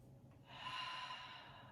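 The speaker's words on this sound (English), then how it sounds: "And one more breath." A deep, slow breath is drawn during a yoga side-bending stretch. The rush of air swells, holds, then slowly fades, close to the mic and with no talk over it.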